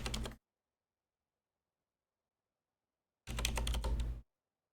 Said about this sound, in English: Maybe I hear every keyboard stroke and everything